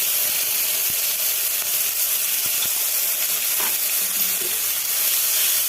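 Onion paste fries in hot oil with dried chilli, cardamom, cinnamon and a bay leaf, giving a loud, steady sizzle with faint stirring scrapes throughout.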